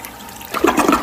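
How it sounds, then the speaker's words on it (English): A toilet flushes loudly and close by, starting with a click and then a rushing, gurgling surge of water after a brief quiet hiss. "I'm going to give a performative flush"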